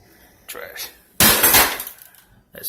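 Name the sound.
trash being dumped into a bin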